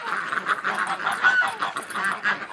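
Domestic ducks let out in the morning honk and quack continuously in a loud, overlapping flock chorus close by, with no pause over the full stretch.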